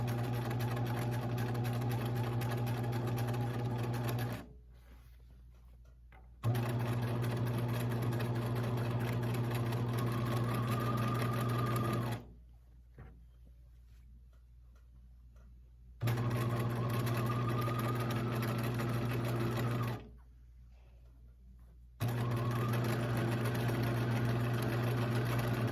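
A sewing machine runs steady bursts of overcasting stitches along the edge of fabric for lounge pants, three long runs broken by short pauses, close and loud with no talking.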